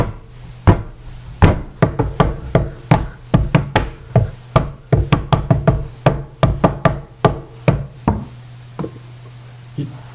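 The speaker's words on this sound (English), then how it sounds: "You bang on the doors." Repeated knuckle banging on heavy wooden chapel doors, close and loud, in uneven bursts of raps with short pauses between groups, ending with a couple of isolated knocks.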